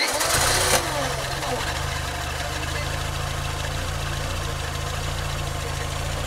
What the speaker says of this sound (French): Bon, le moteur il tourne pas terrible en vrai, hein.